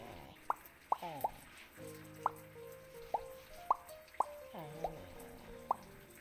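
Water drips and plops while a dog is washed in the Pets VR game, with about nine distinct bright droplet plinks spaced irregularly over a soft background, close and clear.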